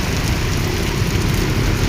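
Heavy rain pouring in the Philippines, heard as a dense, steady, loud roar of falling water with no pauses.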